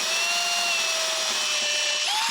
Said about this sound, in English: Now just be careful drilling these out